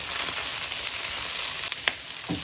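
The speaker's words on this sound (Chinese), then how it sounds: "煎到豆腐有一点点焦焦的，把红萝卜、木耳也放进来炒。" Tofu, carrot and wood ear mushroom stir-fry in a pan with a continuous crackling sizzle, punctuated by a few quick spatula scrapes and taps.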